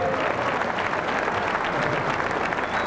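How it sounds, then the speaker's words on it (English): An audience gives a loud, dense round of applause for a pinball designer, unbroken clapping with a bit of crowd noise throughout. "Let's have a big round of applause for George Gomez, designer of NBA Fastbreak."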